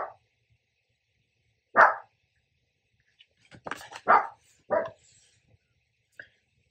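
A dog barks indoors in short, separate bursts: a single bark, then a cluster of three or four sharper barks with a faint yip at the end, surrounded by silence.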